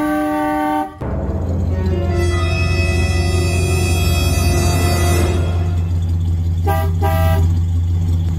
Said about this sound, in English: can you honk the horn?